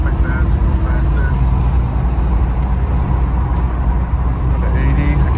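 Steady, loud broadband drone of a 1987 Buick Grand National cruising on the highway at about 80 mph and 2,600 RPM, with engine hum blended into road and wind noise throughout, no breaks.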